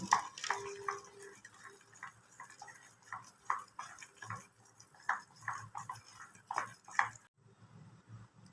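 Batter of rice flour, semolina and flour being mixed with chopped onion and green chili: a quiet, steady series of wet slaps and clicks from the stirring spoon, close by, with no talk.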